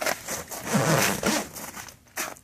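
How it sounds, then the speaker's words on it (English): Zipper on a ZippUP UTV hybrid enclosure door: several quick ripping zip strokes in close succession, loud and near, with brief pauses between pulls. "Couple zippers to put your door back on again."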